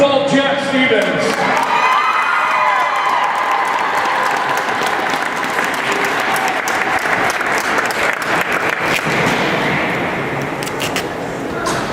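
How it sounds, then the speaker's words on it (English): A loud crowd at a youth hockey tournament's awards ceremony in a rink claps and cheers, with children shouting and whooping over sustained applause that carries on for the whole stretch before easing slightly near the end. "How about a big round of applause for the all-tournament team?"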